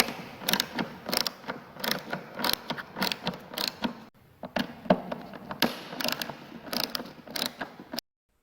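Screws being unscrewed on the air filter housing of a Mercedes M272 engine, heard as a series of close, rhythmic ratcheting clicks and creaks in short bursts with brief pauses.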